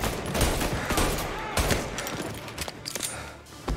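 Gunfire in Mafia: Definitive Edition, heard as a loud, dense stretch of overlapping shots and sharp cracks in quick, uneven succession, close and continuous throughout.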